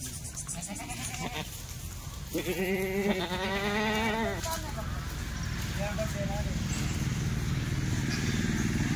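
Kathiawadi goats in a group for sale, bleating several times in wavering cries over a steady outdoor din with a motorbike-like hum and people talking nearby.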